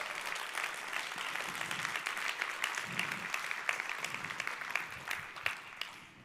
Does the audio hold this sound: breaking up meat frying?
no